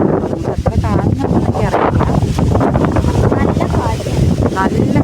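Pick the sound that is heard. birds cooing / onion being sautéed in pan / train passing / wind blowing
wind blowing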